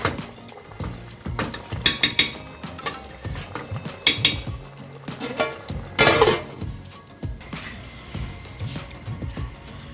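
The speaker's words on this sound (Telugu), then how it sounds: "మళ్ళీ నేను మూత పెట్టేస్తున్నాను ఇప్పుడు" Metal cookware clinks and clatters as a lid goes onto a pot of Andhra-style raw prawn, potato and brinjal curry, a series of close, sharp taps and scrapes with small gaps between them.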